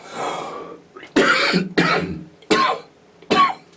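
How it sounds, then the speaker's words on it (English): Four harsh coughs in quick succession, close and loud, after a soft breathy sound at the start. "using my voice has started my cough off again"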